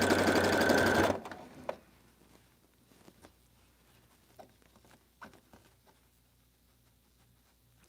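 A sewing machine runs in a fast, loud burst stitching fabric scraps for Christmas coasters, then stops, leaving faint clicks and rustles of handling.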